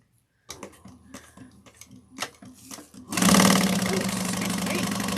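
A sewing machine stitching a train case runs first in short bursts of ticking stitches, then sits briefly at lower level before breaking into a loud, steady, full-speed whir that continues to the end.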